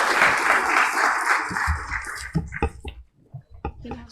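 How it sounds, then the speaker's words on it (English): Audience applause for a panel at a tech conference, dense and sustained at first, then thinning to a few scattered claps before fading out. "can we have a big round of applause for all the panelists?"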